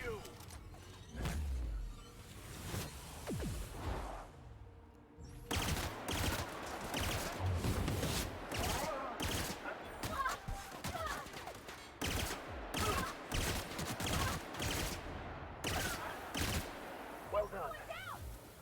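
Gunfire in The Outer Worlds, a sci-fi shooter video game: dense, repeated shots in rapid bursts with mechanical clanks, loud and sustained over most of the stretch, with a short quieter gap early on and a voice talking intermittently underneath.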